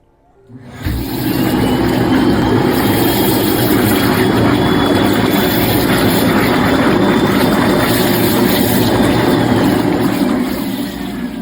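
Whirlpool bath jets starting up and then running, a loud, steady rushing roar with a high whine that holds throughout before easing slightly at the end.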